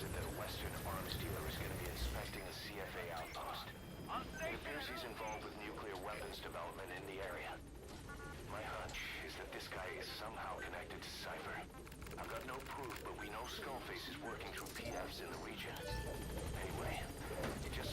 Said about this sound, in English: We want to get the helicopter to pick us up.